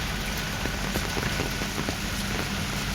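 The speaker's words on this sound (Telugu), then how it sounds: "వర్షం అయితే ఇప్పుడు బీభత్సం స్టార్ట్ అయిందనమాట మాకు" Heavy rain pours down steadily around caravans at a film shoot, a dense, constant hiss with scattered drops pattering close by and no voices.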